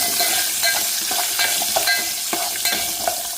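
Small onions frying in oil in a pan for a tamarind stew, a steady close sizzle broken by repeated scrapes and clicks of a spoon stirring them, with no voices.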